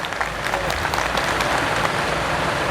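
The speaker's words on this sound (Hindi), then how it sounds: "अगर इन तालियों में और थोड़ी गड़गड़ाहट होती तो अच्छा लगता।" A large audience applauds loudly and steadily, a thick, continuous roar of clapping that fills the whole stretch without pause, no voices standing out.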